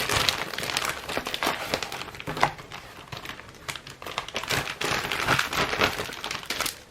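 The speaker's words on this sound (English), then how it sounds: "I like how they all come in these different plastic bags." Plastic bags holding diamond painting notebooks crinkle and rustle close up in irregular bursts of crackling handling, loud and continuous with no talk over them.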